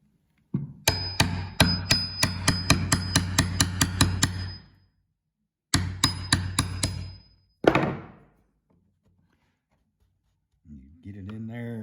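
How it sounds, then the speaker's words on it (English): A hammer taps a prybar to drive it behind a trim nail: a rapid run of sharp metallic hits, a pause, a second quicker burst, then one ringing clang. A voice speaks briefly at the end. "let me grab my hammer here"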